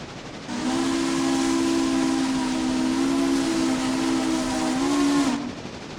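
A steam locomotive whistle sounds in one loud, steady blast lasting about five seconds, with a strong tonal core and breathy hiss of escaping steam, then cutting off sharply.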